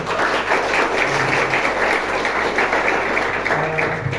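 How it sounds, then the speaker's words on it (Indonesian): An audience at a business seminar applauds loudly and steadily, a dense wash of many hands clapping together at close range, with no talk over it. "Berikan aplaus buat Melia Sejahtera."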